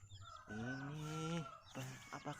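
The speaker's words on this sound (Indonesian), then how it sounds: "wow kita sudah dapat banyak ayam rainbow teman-teman" Chicks dyed in rainbow colours being caught, giving loud, drawn-out cheeping calls and short peeps close by, with brief pauses between bursts.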